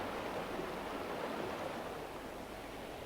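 Spring water flows constantly through hatchery troughs fitted with perforated metal trays, making a steady, dense rushing wash that holds even and unbroken throughout, with no voices.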